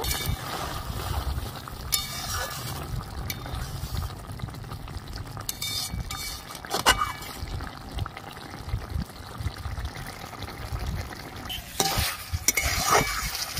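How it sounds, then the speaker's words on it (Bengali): Okra frying in mustard oil for a village-style vegetarian okra-poppy seed dish, a soft sizzle under repeated spatula stirring and scraping, with a few sharper clinks near the end. "সামান্য একটু সরষের তেল দিয়ে দিচ্ছি। ভালো করে ফুটিয়ে নেব।"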